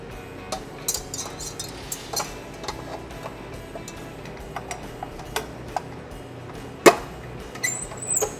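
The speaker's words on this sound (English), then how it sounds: "You can put the bowl on the mixer and the whisk in there." A mixing bowl and wire whisk are set onto a stand mixer in a kitchen while making a Yule log cake, producing scattered light clinks and ticks of metal and glass, with one sharper clank near the end.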